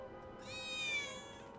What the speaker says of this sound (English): I think one of Betty's cats might be nearby.